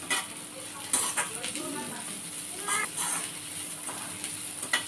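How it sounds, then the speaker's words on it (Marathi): Capsicum is sautéed in a pan for restaurant-style chilli chicken, with a soft sizzle under repeated clinks and scrapes of a spoon stirring against the pan. "शिमला मिरची, व्यवस्थित त्यालाही परतून घ्यायचं आहे।"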